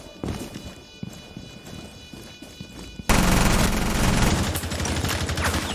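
A Vector submachine gun fires in Rainbow Six Siege during a competitive esports match. Sparse clicks and thuds give way to a sudden, loud, sustained automatic burst that runs to the end.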